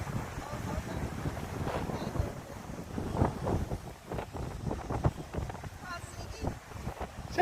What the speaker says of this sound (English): Lovely day, very windy.